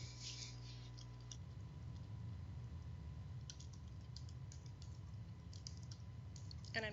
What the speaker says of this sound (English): And I'm typing that in so you don't have to remember it.